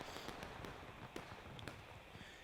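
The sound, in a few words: distant musket gunshots in the video game War of Rights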